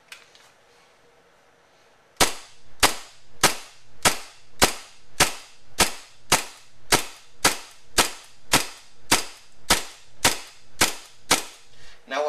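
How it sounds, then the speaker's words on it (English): A WE 1911 MEU green gas airsoft pistol fires about eighteen loud, sharp shots in a steady rapid rhythm, each with a short crack and quick decay, starting after two seconds of near silence. "you saw when I was firing into the target"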